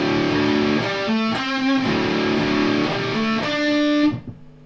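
Heavy, overdriven electric guitar power chords ring out in a steady riff, punctuated by quick single-note fills, then cut off abruptly near the end.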